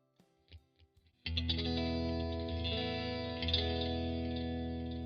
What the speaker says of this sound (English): So it's a decent guitar sound.